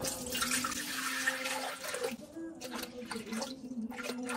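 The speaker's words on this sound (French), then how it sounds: "on va sur la balance et on va venir mettre 1 litre d'eau" Water poured into a pot sitting on a kitchen scale, a litre going in as a steady close splashing stream that thins and trickles toward the end.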